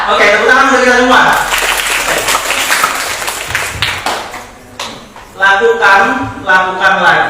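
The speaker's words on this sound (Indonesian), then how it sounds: "Oke, tepuk tangan untuk kita semua." Workshop audience at a public speaking session clapping together in a dense, sustained burst that fades and then swells again, with voices mixed in.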